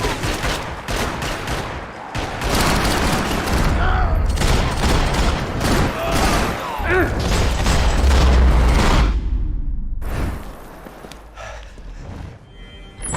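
Heavy gunfire in the game Max Payne 3: bursts of close shots and booming impacts overlap in a loud, chaotic firefight before the fire thins out, with scattered shouts in the mix.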